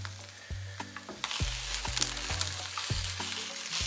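Food fries in a pan for a home-cooked breakfast, with a steady hiss and crackle that grows louder after the first second, over a low droning hum with no talk.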